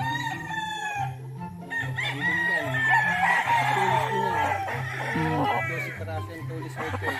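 A fighting rooster on a mountain farm crows loudly and repeatedly, close to the microphone, with clucking and other fowl calls layered underneath and a voice speaking faintly in the background.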